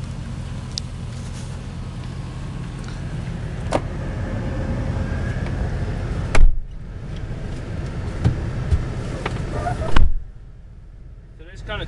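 A 2000 Chevrolet Silverado LS extended-cab 4x4 pickup on a test drive, a low steady engine and road rumble from inside the cab, broken by a couple of sharp thumps and ending with a drop in noise.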